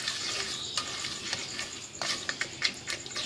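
Cumin seeds sizzle in hot oil in a pan while a spoon stirs them, giving sharp scraping clicks over a continuous frying hiss.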